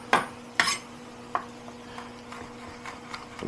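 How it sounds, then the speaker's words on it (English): Garlic minced with a knife on a cutting board, a handful of crisp chopping taps, a few louder ones early and then lighter, irregular knocks, close and otherwise quiet. "A quick little mince here"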